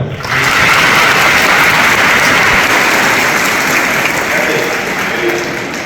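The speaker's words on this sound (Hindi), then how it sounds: "इनके लिए ताली बजाओ।" Audience at a Hindi talk on phone and online fraud claps loudly for Adarsh Rana, a dense, sustained round of applause that fades slightly near the end.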